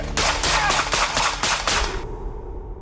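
Rapid burst of gunfire from a suspect shooting at a police officer during a traffic stop, roughly eight loud, closely spaced shots over about two seconds, followed by a fading echo.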